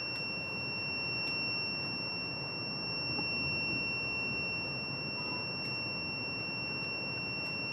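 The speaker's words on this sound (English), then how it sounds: "When the light is off, the beep sound is off" A DTF printer loading white ink gives off a sustained high electronic beep tone, steady and continuous over a quiet hum of the machine, with no talking.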